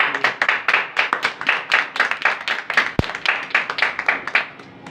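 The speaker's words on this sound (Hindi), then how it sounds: "ताली बजाओ" A congregation at a church gathering claps in a quick, steady rhythm, a close run of sharp, evenly spaced hand claps that carries on for several seconds before stopping.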